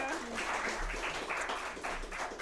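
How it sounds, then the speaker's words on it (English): Quiet, distant audience applause after a family music show performance, a soft rippling of clapping hands under faint room tones, with a voice briefly audible. "give these guys another round of applause"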